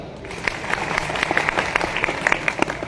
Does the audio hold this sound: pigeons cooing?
no